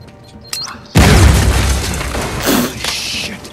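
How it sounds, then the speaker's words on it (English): Loud, close explosion in the video game Uncharted 4, a sudden booming blast that rumbles on for a few seconds with a second surge of debris before fading, no voices. "Josh, this is kind of an explosion in my face."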